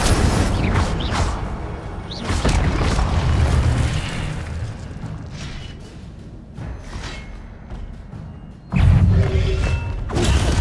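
Spell casts and magical blasts from the video game Hogwarts Legacy come as a dense stream of booming bursts and whooshing impacts, with a louder blast near the end.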